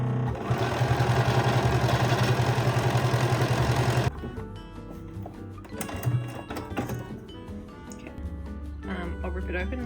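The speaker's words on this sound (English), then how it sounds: "I've put my button foot on and just going to slide it under and do a test buttonhole." A sewing machine fitted with a button foot stitches a test buttonhole, running in a fast, steady, close-up drone for several seconds before stopping abruptly, followed by quieter handling clicks and rustles.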